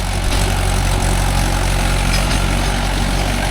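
A Mahindra 415 DI tractor, hitched to a 36-blade rotavator in a coconut plantation, runs with a loud, steady diesel rumble close by, unbroken throughout with no voices.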